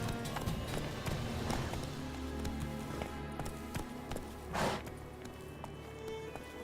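A horse's hooves in The Witcher 3 clopping at a run in quick rhythmic beats, moderately close amid game ambience and music.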